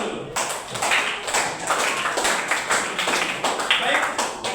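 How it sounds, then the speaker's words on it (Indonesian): A classroom of students clapping their hands together at the end of a lesson, a dense, steady burst of close applause lasting a few seconds. "kita tepuk tangan dulu"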